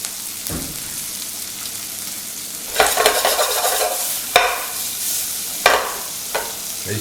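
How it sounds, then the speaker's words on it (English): Steady sizzling of pancetta and pea pasta frying in a pan, broken by several sharp scraping stirs of a utensil against the pan. "We're getting good sizzle. Just keep it moving in the pan."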